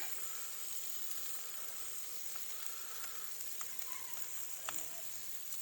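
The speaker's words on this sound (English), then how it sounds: "Look how that lard crisps them tortillas up." Tortillas for deer neck birria tacos fry in hot lard, giving a steady, even sizzle throughout with a few faint clinks and pops in the pan.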